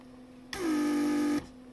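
A repaired Mercedes central locking pump runs in vacuum mode to pull the trunk lid handle back in, a close, steady motor whine with a falling pitch that settles, about one second long over a faint hum.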